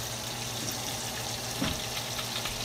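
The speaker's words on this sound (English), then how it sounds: "now that we have the flautas rolled, we can actually put them in the pan to fry" Rolled flautas fry in hot oil in a pan, a steady close sizzle and crackle with a soft bump partway through.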